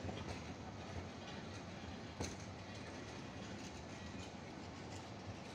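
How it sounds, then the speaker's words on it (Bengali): The Saydabad Express train rolls slowly through Saydabad railway station in Sirajganj, giving a faint, distant, steady rumble of wheels on rails with a single sharp click partway through. "আপনারা দেখছেন গাড়িটি চলে যাচ্ছে"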